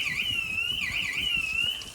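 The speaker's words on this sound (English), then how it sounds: "The next door's burglar alarm goes off because they've left the windows open." A neighbouring house's burglar alarm sounds next door, a continuous warbling electronic tone that wavers up and down, steady and fairly loud with low rumbling underneath and no speech.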